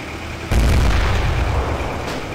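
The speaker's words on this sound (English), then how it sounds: "And I hear a tank" A tank rumbles amid gunfire in the World War II Online game, a sudden heavy blast that rolls into a sustained loud roar lasting about two seconds, with no talk.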